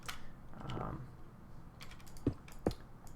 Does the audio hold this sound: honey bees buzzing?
no